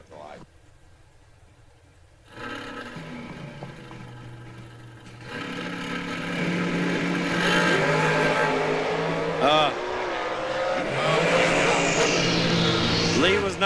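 Drag race cars at a drag strip event rev and accelerate, starting faint then swelling into a loud, sustained engine roar that builds over several seconds, with an announcer talking over it throughout.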